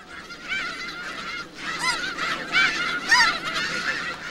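A noisy flock of snow geese honks continuously, overlapping nasal calls rising and falling in loudness, fairly close with a steady field background.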